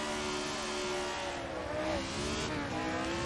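1967 Formula 1 cars in the Assetto Corsa racing game roar and rev hard together at the start of the Monaco Grand Prix, a loud dense engine wail with rising pitches and no talk.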